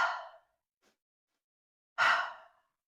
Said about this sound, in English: It's going to be 2 inhales through the nose and an exhale through the mouth.